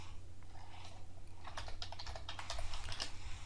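Quiet, rapid tapping of keys on a computer keyboard, a short run of light clicks over a low steady hum.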